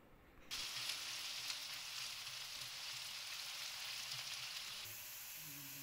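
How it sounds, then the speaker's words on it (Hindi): Two chopped onions hit hot oil with an abrupt, close sizzle that holds steady and fairly loud for several seconds, then softens slightly toward the end. "दो प्याज जो कि मैंने काट के रखे हुए हैं वो मैं इसमें शामिल करूँगी और इसको अच्छे से फ्राई कर लूँगी"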